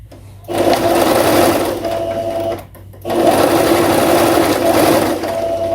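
A domestic sewing machine stitches closed the open end of fabric bias binding on a loose blouse, running in two steady motor bursts with a short pause between them, close and fairly loud, with no talking.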